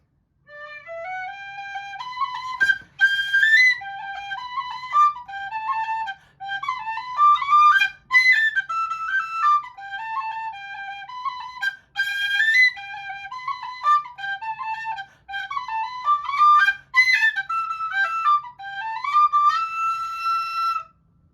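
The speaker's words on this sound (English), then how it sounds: "And here's the jig." A black-topped Generation tin whistle plays a lively jig, quick bright notes in bouncing phrases with short breaths between them, solo, clear and close.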